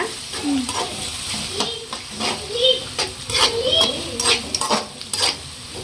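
Eggs fry with chapati noodles in a pan, a steady sizzle broken by repeated scraping strokes of a spatula stirring the mix, with a voice murmuring faintly underneath.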